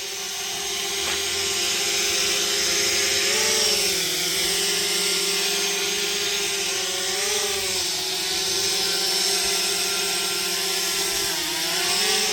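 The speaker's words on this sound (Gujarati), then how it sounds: "તો મિત્રો આપણો ડ્રોન આવી ગયો છે" Camera drone flying nearby produces a steady high-pitched buzzing whine that rises and falls slightly in pitch as it manoeuvres, continuous and fairly loud throughout with no voices.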